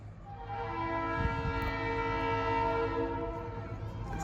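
A northbound Ann Arbor Railroad manifest freight train at Liberty Street sounds a long, steady horn chord, with rumbling rail noise underneath and a brief thump partway through.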